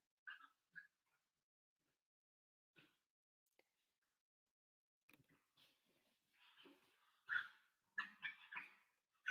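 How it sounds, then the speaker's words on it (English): A dog just let back inside indoors gives faint, scattered whimpers and yips in short bursts, growing busier and louder toward the end, with no talk over it. "Sorry, my dog's making noises in the background."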